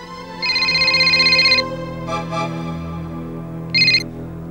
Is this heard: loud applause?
no